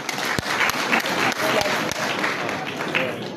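An audience claps at a youth empowerment graduation ceremony, producing a sustained wash of applause with sharper individual claps standing out, fairly close and steady throughout.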